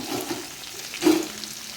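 Onion, tamarind and garlic being sautéed together in a pan for chutney, giving a brief soft sizzle with one louder stirring scrape partway through, close by and without talk.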